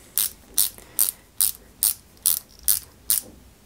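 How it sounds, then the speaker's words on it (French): A small AP screw is driven into a 1/8-scale Ferrari 330 P4 model with a ratcheting tool: eight crisp, evenly spaced clicks, close and alone. "Et entre les deux, on va venir y mettre une petite vis AP"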